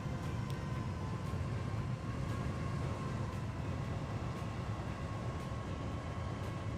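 A train runs through a Transport Fever 2 rail scene, giving a steady low rumble and rolling clatter with no talk over it.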